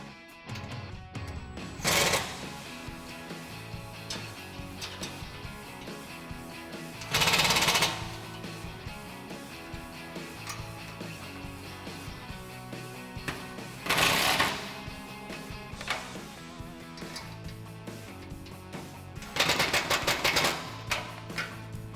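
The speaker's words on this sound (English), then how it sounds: "last thing to do is tighten up the bolts for these top brackets" Roof rack bracket bolts on a Jeep Wrangler JL with a Rugged Ridge hard top rack are driven tight in four short, loud mechanical bursts spaced several seconds apart, over steady background music.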